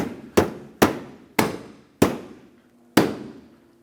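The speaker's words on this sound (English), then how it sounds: "They're pretty stiff, so you have to give them a good hit" Five sharp, loud knocks at uneven intervals as stiff plastic bumper cover clips on a 2009-2013 Honda Fit are struck into place, each hit fading quickly with no talking.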